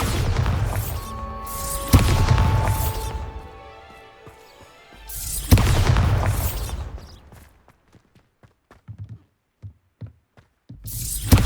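In the Hogwarts Legacy video game, a Bombarda explosion spell blasts pumpkins, giving two loud booming crashes with debris scattering after each, then a run of small scattered clatters and a final sharp hit.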